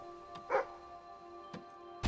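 A dog in the Fable 3 game gives a couple of short, soft barks, fairly quiet against a faint background hum.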